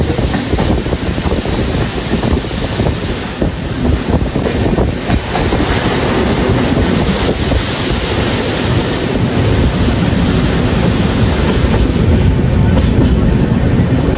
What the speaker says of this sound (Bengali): আমাদের ট্রেন এখন ফারাক্কা ব্যারেজের উপর দিয়ে যাচ্ছে।